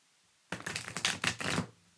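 A short burst of tarot cards being shuffled, a rapid papery riffle of repeated flutters lasting about a second, close and fairly loud.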